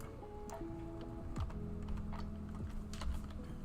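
Computer keyboard typing of a git command, a quick run of light, close key clicks in an uneven rhythm, faint over a steady background hum, with no talk.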